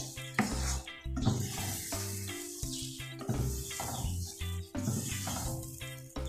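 Loud, steady sizzling of Kashmiri chili dropped into hot butter in a pan for a beef nihari tempering. The frying hiss continues with occasional stirring clatter.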